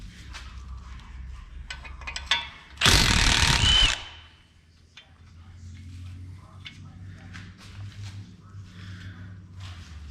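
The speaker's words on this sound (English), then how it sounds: "we're going to be undoing the lower ball joint nut and bolt" An impact wrench rattling in a loud one-second burst on the lower ball joint nut and bolt of a Buick Verano during wheel bearing work, with clicks of tools and someone talking before and after.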